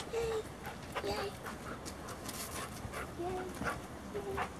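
A Labrador puppy gives several short, high whimpers and yips spread through the stretch while a person talks over it indoors.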